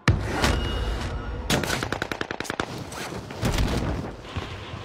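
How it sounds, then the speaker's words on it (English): Video game gunfire fills the clip: a loud single shot, then rapid bursts of automatic fire in a quick rattling run, followed by more scattered shots, all close and sharp with a steady background rumble. "Where am I getting shot from?"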